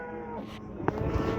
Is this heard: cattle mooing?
yes